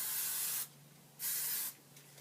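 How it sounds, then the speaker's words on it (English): Hairspray sprayed onto curled hair in two sustained bursts of about half a second each, loud and close, with quiet gaps between them. "Just get a decent amount of hairspray in there."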